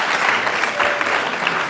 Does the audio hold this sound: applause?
yes